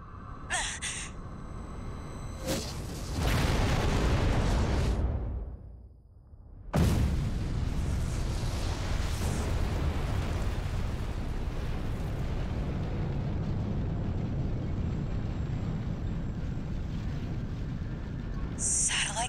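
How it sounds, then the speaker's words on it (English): Satellite cannon strikes in the mecha game Armored Core VI: a heavy roaring blast swells and sustains, drops away briefly, then a second massive explosion erupts and rumbles on loudly and continuously. "Satellite cannons?"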